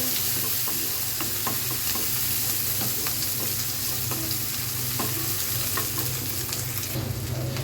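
Koi fish frying in a pan while taro is cooked alongside, giving a loud, steady sizzle with scattered crackles and the occasional scrape of stirring throughout.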